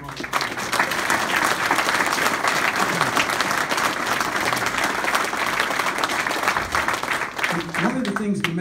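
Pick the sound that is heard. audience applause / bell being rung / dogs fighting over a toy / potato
audience applause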